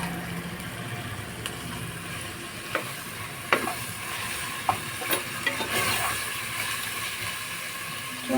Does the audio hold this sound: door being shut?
no